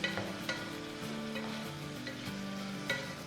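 Tomato frying in a pan for methi pulao: a steady close sizzle with repeated scraping stirs and occasional clinks, no voices.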